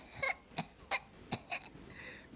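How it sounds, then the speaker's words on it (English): A string of short, sharp coughs from a character in NoPixel, a role-play game, about five dry bursts at an uneven rhythm, close and fairly loud with no talk. "I've had a terrible cough for months"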